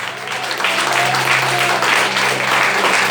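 A church congregation applauds during a Portuguese-language evening service, giving dense, steady, loud clapping that fills the room throughout.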